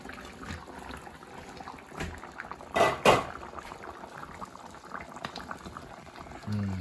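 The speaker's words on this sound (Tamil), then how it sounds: "நல்லா கொதித்து வந்திருக்கு." Chicken curry bubbling at a steady boil in a pot, a continuous close simmer of liquid with a louder burst of bubbling midway and no talk.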